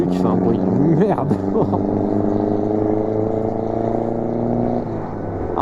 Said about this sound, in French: Alors, en tout cas on l'entend bien sa voiture